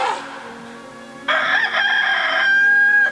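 A rooster crowing sound effect in a church Easter play, one loud, close, drawn-out cock-a-doodle-doo that rises and holds, with no talk over it.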